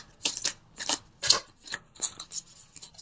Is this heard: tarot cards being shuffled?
yes